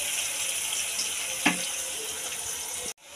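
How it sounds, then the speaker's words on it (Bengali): Onions sizzle steadily in a hot pan for kumro posto, a continuous hissing fry with one brief clatter partway through, then it cuts off abruptly near the end. "এবারে পেঁয়াজটা লাল লাল করে ভেজে নিয়ে"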